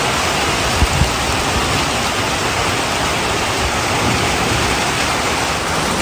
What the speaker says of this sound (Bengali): মাশাআল্লাহ মুষলধারে বৃষ্টি, আর রংপুরে বৃষ্টিটা খুব দরকার ছিল।